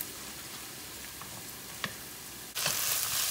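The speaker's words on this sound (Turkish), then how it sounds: "Salçamızı iyice bir kavuracağız." Tomato paste and minced meat sizzle in a pan, a steady close frying hiss with a faint click, then a sudden louder burst of sizzling near the end.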